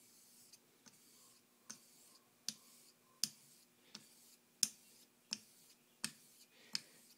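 A straight razor stroked across an Okudo whetstone, a series of about ten sharp, evenly spaced clicks at the end of each stroke over a faint steady hum, quiet and close.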